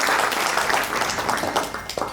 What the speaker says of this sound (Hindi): तो इस बहाने से हम ताली देके उनको भी पहुंचा देते हैं